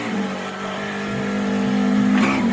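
A motor vehicle is pulled out and driven, its engine giving a steady close mid-range drone that swells slightly toward the end, with no talking.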